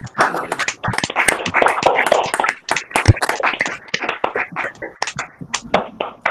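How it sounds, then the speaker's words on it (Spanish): Scattered, uneven clapping from an audience at a school presentation on the International Baccalaureate program, with irregular sharp hand claps coming and going close by rather than forming a full, continuous ovation. "Pues un aplauso."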